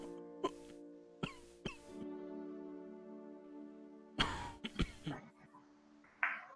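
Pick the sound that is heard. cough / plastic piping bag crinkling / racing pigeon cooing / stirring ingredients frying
cough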